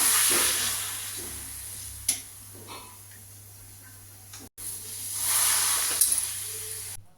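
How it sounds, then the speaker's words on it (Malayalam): Pappadam frying in hot oil gives a soft, close crackling sizzle, with two louder hissing surges as pieces go in, and quieter frying between them. "പപ്പടം ഇതും കൂടി ഒന്ന് പൊരിച്ചെടുക്കാം"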